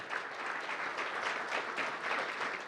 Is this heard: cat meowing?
no